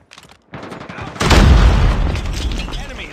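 A frag grenade detonating in Call of Duty Mobile, a heavy, close boom that swells and then decays into a lingering rumble, preceded by brief game noises.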